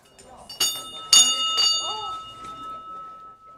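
A small hand bell rung to call a conference session to order, three bright clangs in quick succession with a ringing tone that lingers, while people murmur and talk nearby in a room.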